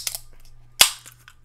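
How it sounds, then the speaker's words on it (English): A can of Sprite cracks open with a sharp click, then a louder hissing pop of released fizz and a few faint follow-up clicks, close and isolated against a quiet background hum. "We finna get right by cracking open a can of Sprite."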